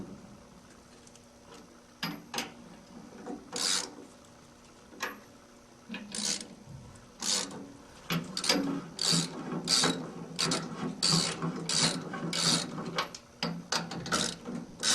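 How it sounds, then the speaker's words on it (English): Ratcheting wrench clicks from torquing bolts in a cross pattern to press the trunnion off an industrial washing machine frame, in short bursts that grow more frequent, close and fairly quiet. "Torque the bolts evenly in a cross pattern to force the trunnion from the frame."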